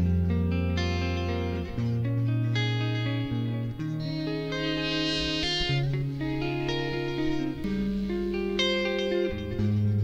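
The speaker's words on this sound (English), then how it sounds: "So kind of like if you have a small combo and you just crank it up all the way, so you get that kind of sag" Electric guitar played through a TC Helicon VoiceLive Play GTX pedal on a cranked small-combo preset, warm compressed and lightly overdriven chords and runs ringing with reverb, steady and up front with no talking.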